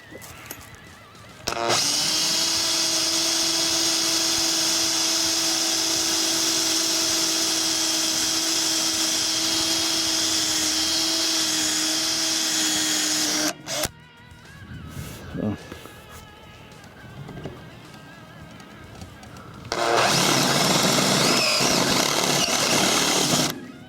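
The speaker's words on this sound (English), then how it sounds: "Take my very dull 1/8 inch drill bit here." A power drill with a dull 1/8 inch bit whines loudly and steadily while drilling out rivets on a bus being converted to an RV, stops for a few seconds of quieter handling, then spins up again.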